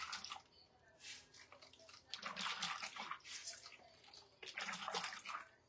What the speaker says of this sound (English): We're gonna rinse it with clean water.